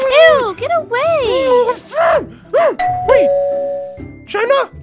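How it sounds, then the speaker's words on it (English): A doorbell chime rings inside a Minecraft game as a single sustained tone lasting about a second, heard amid lively animated voices talking and exclaiming before and after it. "Did you hear the doorbell?"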